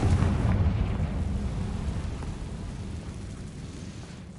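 Confringo fire spell blast exploding in the Hogwarts Legacy video game, a loud deep rumbling boom that fades slowly over several seconds with a crackling tail.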